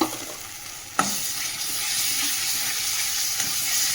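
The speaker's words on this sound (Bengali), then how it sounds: "আদা রসুনটা একটু তেলে নাড়িয়ে নিই" Ginger garlic paste frying in hot oil over fried onions, a steady loud sizzle with one sharp clack of a stirring utensil near the start.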